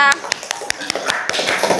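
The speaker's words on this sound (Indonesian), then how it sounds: "Beri tepuk tangan untuk kelompok 3." A classroom crowd applauds group 3, a scattered run of sharp, irregular hand claps close by, with voices murmuring underneath.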